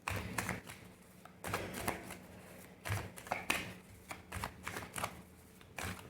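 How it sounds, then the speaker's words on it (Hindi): Tarot cards are shuffled and drawn in a quiet room, giving soft papery riffles and flicks in irregular close bursts with small taps in between. "अब आपके लिए कुछ और डूज के कार्ड्स निकाल लेते हैं।"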